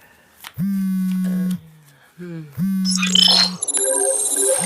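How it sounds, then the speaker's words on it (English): A phone rings with a spam call, giving steady electronic tones in a pattern of long and short beeps at close range, then a brighter jangling melody builds as the ringing continues. "Sorry, phone call."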